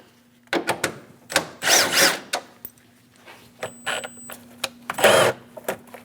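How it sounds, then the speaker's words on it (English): A 10mm socket loosens the air cleaner bolts on a 2003-2025 Chevrolet Express 2500 4.8L, giving close, sharp bursts of ratcheting and clicking with short quiet gaps and no talking. "Using a 10mm socket, remove the 2 bolts for the air cleaner."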